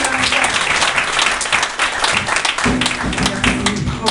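A church congregation claps enthusiastically in a dense, continuous burst of applause, with a voice and music faintly underneath.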